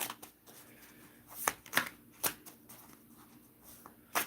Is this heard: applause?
no